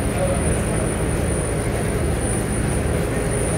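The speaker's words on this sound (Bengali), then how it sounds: "এইটা হলো আমাদের ট্রেন।" The long Dhaka–Cox's Bazar train stands at Kamalapur station, giving off a steady low rumble and hum with the broad noise of the platform around it.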